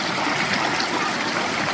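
Mountain stream water flowing steadily close by, a broad continuous rushing and trickling wash with no break, loud and alone without voices.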